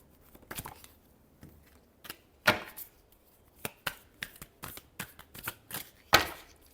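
Tarot cards are shuffled in a series of quick, crisp riffling bursts with short pauses between them, close and fairly quiet.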